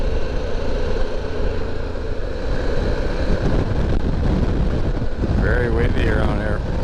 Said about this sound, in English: Very windy around here.